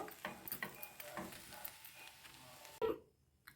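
Makhana and poha chitranna gets mixed in a pan, giving soft irregular scrapes and light sizzling taps, fairly quiet and close, ending in a sharp clack then near silence.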